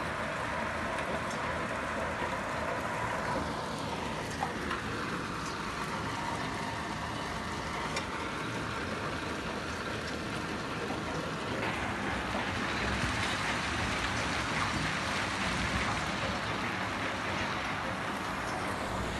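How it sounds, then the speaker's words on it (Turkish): A sudden, short hailstorm pelts down on grass and surfaces, a dense, steady roar of hard pattering impacts that continues unbroken throughout, loud and close with no voices. "bugün kendini ani bastıran kısa süreli bir dolu yağışı olarak gösterdi."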